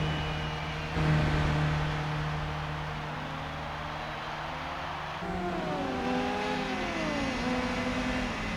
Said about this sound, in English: nice blow-off valve sound